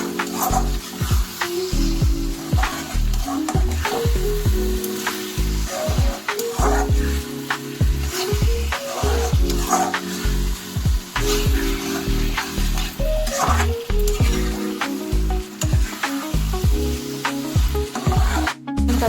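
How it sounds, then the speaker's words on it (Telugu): Cut cauliflower stirred as it fries in a pan, with a loud continuous sizzle and rapid, repeated scraping strokes of a spoon against the pan throughout, close up and without speech. "ఇందులో మనం కట్ చేసుకున్నాం కాలీఫ్లవర్ అన్నీ వేసేసి ఇది బాగా కలుపుకోవాలి."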